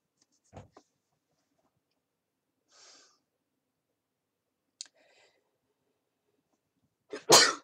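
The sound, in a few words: sneeze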